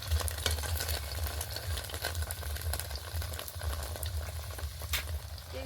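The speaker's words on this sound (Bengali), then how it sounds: "এপিট ওপিট করে একটু ভালো করে ভেজে নেব।" Jaggery-filled parathas fry in a shallow film of oil, giving a steady, close sizzle with a low rumbling hiss and light scraping as they are turned, continuous and without speech.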